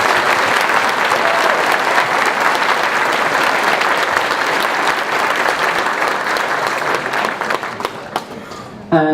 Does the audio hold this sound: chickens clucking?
no